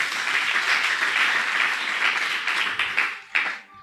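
A church congregation at a ministers' retreat claps hands together in a dense, steady burst of applause that fills the room, thinning out and tapering off near the end with a few scattered final claps.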